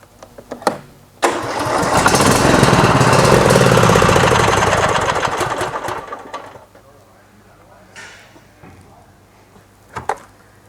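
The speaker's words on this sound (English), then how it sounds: "we're going to start the engine, let it run for 5 minutes" Cub Cadet XT1 tractor engine cranks and fires, running loud and close for several seconds before settling to a quieter idle, with a few clicks and knocks near the end.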